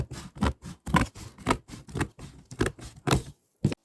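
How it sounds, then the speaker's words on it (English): Ordinary household scissors cut through cardboard for a woven coaster, giving a close, steady run of about a dozen crisp snipping crunches with short pauses, followed by one last cut after a brief gap. "I'm just doing it with an ordinary pair of scissors."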